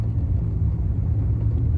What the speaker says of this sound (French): je suis en train d'essayer la voiture là sur une côte